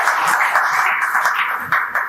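An audience at a 2010 Guhraj Nishad Jayanti community gathering in Mumbai claps to welcome a former secretary, a steady, dense patter of hands that holds evenly for a couple of seconds without any talking.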